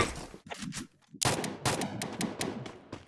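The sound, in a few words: gunfire in a video game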